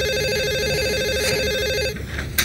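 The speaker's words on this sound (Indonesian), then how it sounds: "Saya angkat telepon dulu ya." A telephone rings with a steady warbling electronic tone that repeats continuously for about two seconds, close and clear, then cuts off into a brief faint rustle.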